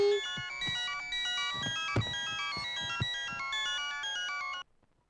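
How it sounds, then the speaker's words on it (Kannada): A phone ringtone plays a bright repeating electronic melody at home, loud and close, then cuts off abruptly near the end. "ಏ ಡ್ಯಾಡಿ ಫೋನ್"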